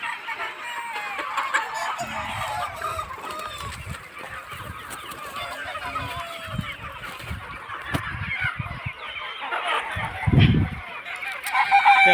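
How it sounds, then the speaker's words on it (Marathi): Free-range country chickens on a fenced poultry farm peck at tomatoes while clucking and squawking continuously, with a rooster crowing and some honk-like calls close by, a busy overlapping flock. "कोंबड्या खात आहेत. मस्तपैकी अशा खेळत आहेत कोंबड्या."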